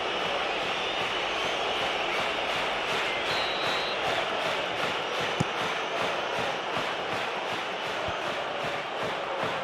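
A stadium crowd in the football game PES 2014 reacting to a foul, a steady loud roar of massed voices with a rhythmic chanting pulse and an occasional thud, sustained throughout.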